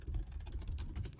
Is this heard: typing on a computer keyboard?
yes